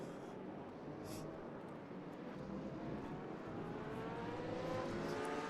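GT3 race cars in the Raceroom game roar through the final chicane at Circuit Zolder, a steady, loud engine drone with rising gear-change whine, under faint commentary.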